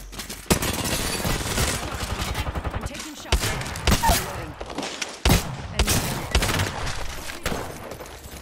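Rapid automatic gunfire rattles loudly through a video game match, with dense bursts and heavy thuds layered over a continuous din of game sound.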